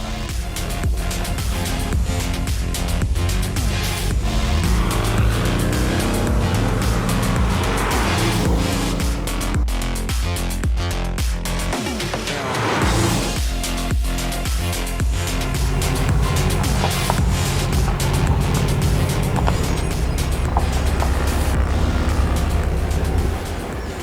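A Porsche sports car drives off and accelerates hard, its engine roaring loud and close with tyre noise throughout, swelling and receding in surges with no talking.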